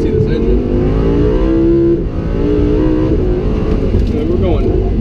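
A Lamborghini Huracan engine revs loudly from inside while driving around a figure-eight course, the pitch rising and shifting through steady acceleration.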